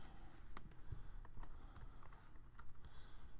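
Quiet keystrokes on a computer keyboard patter in short uneven bursts, as someone types a first name into an online form, faint over a low background hum.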